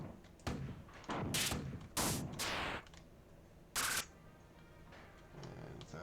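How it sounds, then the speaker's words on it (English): Grenades explode in the classic shooter game Marathon, several loud, sharp bursts in an irregular sequence, each followed by a short crackling decay over a quiet background. "so I'm going to chuck in some grenades."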